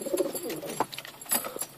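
Pigeons in a Balochistan loft coo softly at close range, several low throaty calls overlapping in quick succession with light rustling, no talking.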